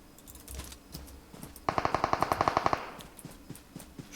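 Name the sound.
gunfire in PUBG Mobile video game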